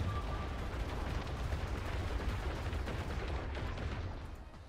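Dense, continuous rumbling barrage of weapon fire from the space strategy game Worbital, loud and sustained throughout with heavy low-end booms, easing slightly at the end.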